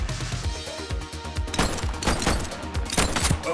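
Rapid gunfire in The Precinct video game, a dense, loud barrage of shots with heavier bursts toward the end.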